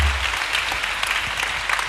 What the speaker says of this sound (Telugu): గట్టిగా చప్పట్లు కొట్టేసేకి మహిమ చెల్లిద్దాం